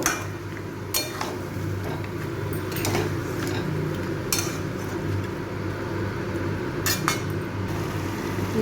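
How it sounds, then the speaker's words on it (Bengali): A spoon stirs yogurt into chicken curry in a pan on a low flame, giving occasional light metallic scrapes and clinks over a steady background hum, with no talking. "আমি দইটাকে একটু ভালো করে মিশিয়ে নেব।"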